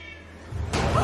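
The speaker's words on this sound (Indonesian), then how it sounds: "suara erangan kucing yang berada di ruangan lain" A cat meows from another room, a short muffled yowl rising out of near silence near the end.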